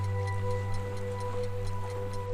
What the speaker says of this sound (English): The watches continue ticking where you placed them beneath the lamp.